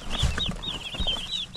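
Small chicks and young turkeys chirping repeatedly in high peeps inside a box, with low thumps and rustling beneath, close by.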